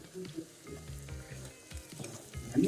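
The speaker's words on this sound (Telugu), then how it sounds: "అల్లం పేస్ట్ పచ్చివాసన పోయిందాక వేపుకుందాం" Ginger paste fries in a pan for chicken fry, giving a close, crackling sizzle that rises and falls with a few stirring scrapes, with no one speaking.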